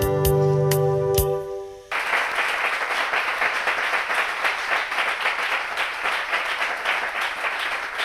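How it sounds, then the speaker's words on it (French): A studio audience at a French television game show breaks into loud, sustained applause right after a short musical jingle, many hands clapping densely and evenly until the end. "On s'applaudit une fois de plus."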